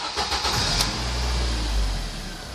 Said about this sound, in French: Démarrer le moteur, n'enfoncez pas la pédale d'accélérateur